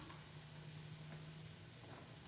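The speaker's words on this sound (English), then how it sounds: "I'm just gonna add in some garlic" Garlic sizzling in a hot pan on a home stove with the heat turned down, a steady, even crackling hiss running close and continuous with no talk over it.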